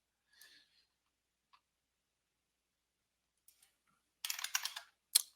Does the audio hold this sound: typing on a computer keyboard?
yes